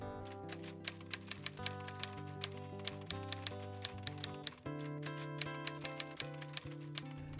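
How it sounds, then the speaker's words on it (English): A typewriter clacks steadily with quick, crisp keystrokes and sharp carriage-like clicks, close and fairly quiet over a soft musical background. "I still remember the clickety-clack it made as she typed."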